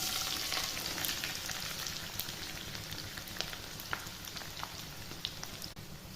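Sliced onions and green chillies frying in oil in a pan, with a steady close crackling sizzle and scattered sharp pops throughout.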